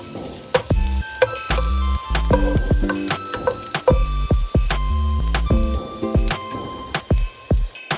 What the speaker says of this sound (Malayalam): ടേബിൾ സ്പൂൺ സൺഫ്ലവർ ഓയിൽ എടുത്ത് അതിനകത്തേക്കാണ് നമ്മൾ നേരത്തെ ചോപ്പ് ചെയ്ത് വെച്ചിരുന്ന വെളുത്തുള്ളി ഇട്ട് നന്നായിട്ട് മൂപ്പിച്ചെടുക്കണം